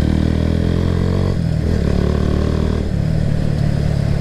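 Kawasaki W175 SE motorcycle with an aftermarket exhaust, loud and close, idling with a few light throttle blips that briefly lift the engine note before it drops back to a steady putter.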